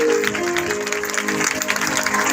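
A congregation at a prayer festival applauds to welcome J Salik; lively clapping carries on under sustained tonal sounds, probably music, holding a fairly full, even level.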